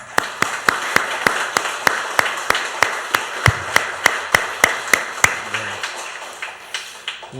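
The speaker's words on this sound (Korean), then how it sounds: "감사하는 박수를 우레와 같이 하나님께 올려드리겠습니다" A church congregation claps in steady unison at a Sunday morning service marking the church's founding anniversary and harvest thanksgiving, with sharp, evenly spaced claps about four per second, tapering slightly toward the end.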